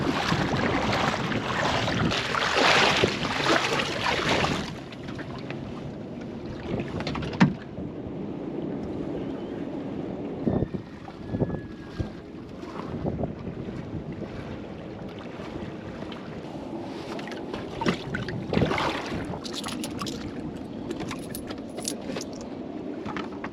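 Water sloshes and splashes around a boat as it is pushed by hand through water only 30-40 centimeters deep in Fiji, with scraping, knocks and rattling, plus wind noise, no engine.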